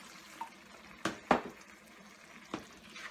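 About half a cup of water goes into a pan of cooking potatoes with spinach, heard as a few short splashes and sizzling pours, close and fairly quiet, with no talk.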